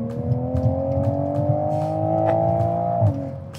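A 2021 Toyota Supra engine revs up near the listener, rising in a smooth, sustained wind-up before it drops off abruptly at the end, with no talk over it.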